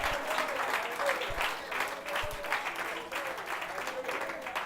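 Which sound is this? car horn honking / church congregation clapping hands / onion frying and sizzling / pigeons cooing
church congregation clapping hands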